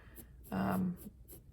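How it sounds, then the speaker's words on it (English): A pencil draws a double line on paper during a grid drawing, giving one short, close scratchy stroke of about half a second against a quiet background. "So I'm drawing kind of a double line there."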